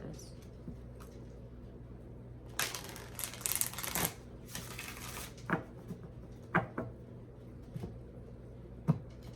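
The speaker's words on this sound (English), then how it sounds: "Get one more shuffle for Taurus" Tarot cards shuffled close by in a quiet room, a soft riffling burst of papery flutter lasting a couple of seconds, then scattered light taps and shuffles over a faint steady hum.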